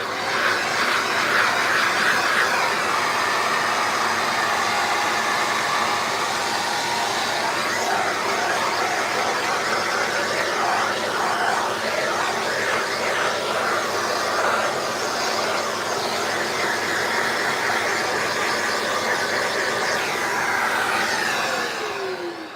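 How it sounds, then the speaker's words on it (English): A household vacuum cleaner (hoover) with a brush attachment runs over an epoxy-coated floor, a steady loud airy whine with slight shifts in pitch as the brush moves, continuous and without speech. "I use a brush on an end of a hoover"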